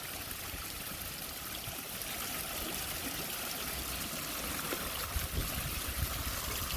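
Water runs in a steady, continuous rushing stream, close and even throughout, with a few small splashy bumps toward the end and no voices.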